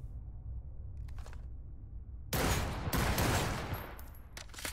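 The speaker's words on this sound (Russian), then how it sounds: "Он стреляет тоже одиночными" Single gunshots in the video game Cyberpunk 2077 Phantom Liberty: a quiet stretch, then a burst of sharp reports about halfway through, followed by a few more isolated shots near the end.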